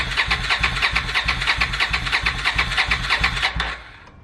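A Suzuki Marauder 800 motorcycle with a freshly replaced clutch, cranking on its electric starter: a fast, steady chug of starter pulses for about three and a half seconds, then it cuts off abruptly without a clear catch into running.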